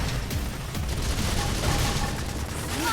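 Rapid volleys of Fire Carnival gunfire in Xenoblade Chronicles X rattle on without pause, mixed with mechanical clatter and game combat noise at steady loudness.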